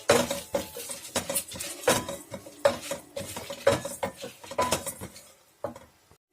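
A metal spoon stirs black pepper and dried red chillies in a pan for mutton chukka, giving a run of sharp scrapes and clinks in an irregular rhythm, close and clear with no talking.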